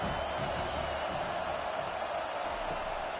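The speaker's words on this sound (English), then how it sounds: "Here comes the crowd trying to make it tough on 3rd and long." Football stadium crowd at a 2024 UFL game roars steadily on third and long, a broad, continuous wash of distant noise with faint voices mixed in.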